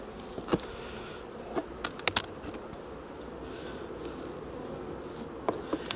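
Honey bees buzz in a steady, dense drone during a beehive inspection, with several sharp clicks and taps from handling the hive scattered through.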